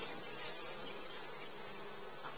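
Honey bees at an opened hive during a hive beetle check give off a steady, dense buzzing drone, close and continuous with no voices.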